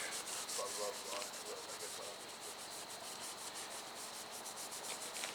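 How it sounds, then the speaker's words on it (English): Steady scrubbing inside the clutch housing of a 2007 Toyota Tacoma 2.7 with a manual gearbox, cleaning off oil: a faint, close, rhythmic rough rubbing repeated in quick strokes, with no voices. "we'll just keep scrubbing away at this"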